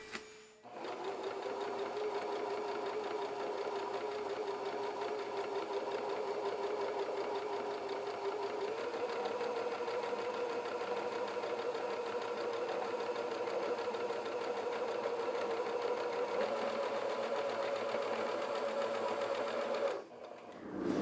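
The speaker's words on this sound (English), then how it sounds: "I'm going to take this to the machine, and I'm going to sew on either side" A sewing machine stitching pieces of quilt fabric for flying geese blocks runs at a steady, continuous whir for about twenty seconds, close and even, then stops abruptly.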